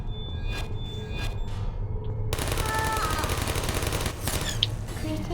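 Automatic turret gunfire from the video game Portal, a sharp burst that cuts in abruptly and continues as a dense rattling stream, with electronic tones and chirps mixed in and no talk over it.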